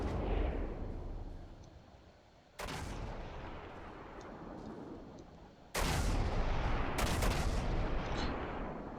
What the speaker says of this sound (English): Most of his shots are landing on the turrets.